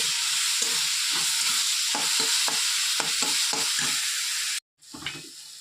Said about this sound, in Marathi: बघा की मिरचीचं वाटण आणि कांद्याचं वाटण मस्त फ्राय करून घेते